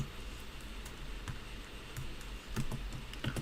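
Keys clicking in sparse bursts while someone types C++ code on a computer keyboard, faint and close against a steady background hum, with a denser run of strokes near the end.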